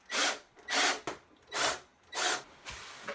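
A power drill drives screws into a fiberglass shower flange in four short, evenly spaced bursts, each a harsh whirring grind of about half a second, heard close with quiet gaps between.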